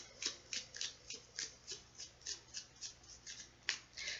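Tarot cards being shuffled: quiet, evenly spaced papery riffles and flicks repeat about three times a second, close by and soft, with no talking.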